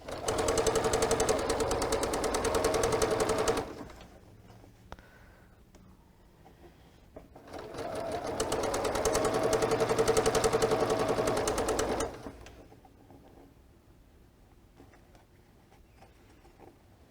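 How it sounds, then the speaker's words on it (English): A sewing machine stitches quilt rows with a quarter-inch seam in two long, loud, steady runs of rapid needle clatter, with a quiet pause of handling noise between them. "sew the top and the bottom row of this project"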